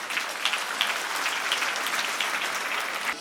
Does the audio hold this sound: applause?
yes